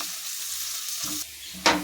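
Onions softening in a pan for gobi manchurian, a soft close hiss of frying that shifts as they settle, ending in a brief louder scrape.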